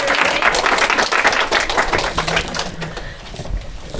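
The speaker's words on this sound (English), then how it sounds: "Give her a round of applause" Audience applause at a live talk on kinesiology and bodies in motion, a dense steady clatter of many hands clapping that fills the room, loud and continuous, easing slightly toward the end.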